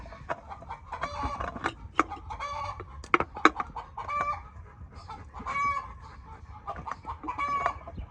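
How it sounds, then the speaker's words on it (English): Several chickens cluck and squawk busily at close range, overlapping calls in irregular bursts with short pauses. "Boy, them chickens are going at it."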